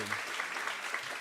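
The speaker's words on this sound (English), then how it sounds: "Give him a big round of applause as well." Audience applause fills a town hall community engagement meeting in KwaZulu-Natal, steady dense clapping throughout the short stretch without a break.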